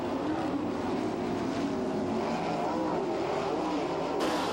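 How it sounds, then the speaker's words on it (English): Sprint race car crash as it rolls over into turn 1 during a 1998 heat race: a loud, steady engine roar with broadband grinding noise across the whole stretch, with no talking. "Jamie Frederickson starts his heat the hard way, rolling it into turn 1."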